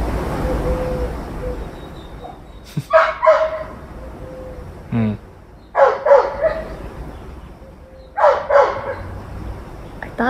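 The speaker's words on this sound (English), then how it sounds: "If that dog is going to keep doing that." A dog barks in short bursts from a moderate distance, three or four separate volleys of sharp yips spaced a couple of seconds apart over a low steady background hum, with no talking.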